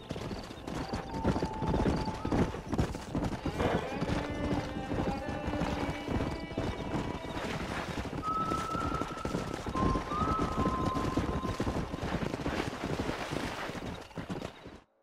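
Horses trot with steady clip-clop hooves and neigh loudly in Red Dead Redemption, hoofbeats rolling continuously beneath wind noise and faint background voices, with whinnies rising clearly midway.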